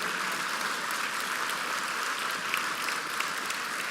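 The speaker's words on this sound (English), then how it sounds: "let's give a round of applause for our emeritus board members, current board members" An audience at a charity brunch applauds board members, a steady wash of many hands clapping together at even volume throughout.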